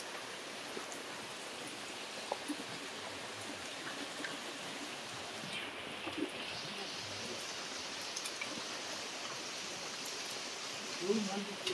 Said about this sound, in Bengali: বৃষ্টিটা এখনো পর্যন্ত কমার নাম নেই,